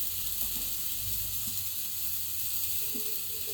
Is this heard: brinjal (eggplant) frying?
yes